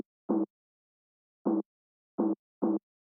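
Filtered snare drum sample cut from a track, its lows and highs trimmed away, playing four short, muffled, mid-range hits at uneven intervals, isolated with silence between.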